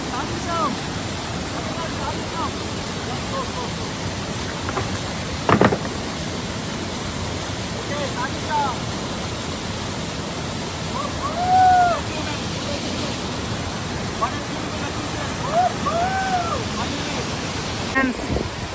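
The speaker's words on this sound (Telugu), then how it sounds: "ఫైనల్లీ వాటర్ ఫాల్స్ దగ్గరికి అయితే వచ్చేసాం." Loddha waterfall near Salur roars as a steady broadband rush of falling water, with faint bird calls and wind over it.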